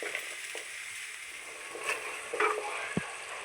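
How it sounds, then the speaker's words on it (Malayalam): Ground tomato purée cooking in a pan for a Kerala-style soya chunk curry, a soft continuous sizzle broken by a few light spoon scrapes and taps as it is stirred, close and quiet, no voices. "തക്കാളി ഒന്ന് വെന്ത് വരുന്നവരെ നന്നായിട്ടൊന്ന് ഇളക്കി കൊടുക്കാം"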